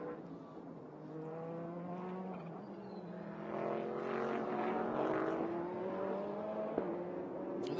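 A Porsche GT race car at Sonoma Raceway in a GT World Challenge America race, its engine note rising steadily and growing louder as it approaches, a sustained close roar with no talking.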